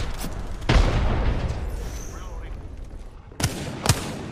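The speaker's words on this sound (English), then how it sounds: "I'm being sniped from Narnia" Sharp sniper shots in the video game Apex Legends: one heavy crack early, then a pair of close reports near the end, with quieter battle noise and a player's voice between them.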